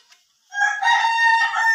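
A rooster crows once, loud and fairly close, in a single drawn-out cock-a-doodle-doo after a brief quiet moment.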